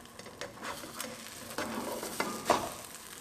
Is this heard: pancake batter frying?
yes